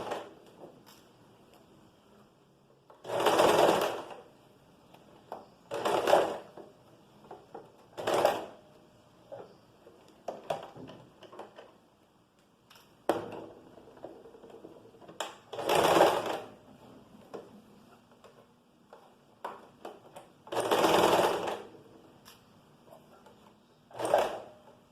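A sewing machine stitches a fabric top in several separate bursts of steady running, each a few seconds long, with short pauses and small handling noises between them.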